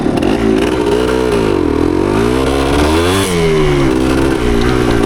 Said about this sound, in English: once it gets the higher revs, it cleans up pretty good